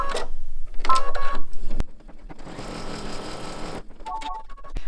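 A sewing machine stitches a tack-down seam on an in-the-hoop mug rug with the presser foot lowered: a short whir early on, then a steady, fairly loud mechanical run of nearly two seconds, followed by light clicks.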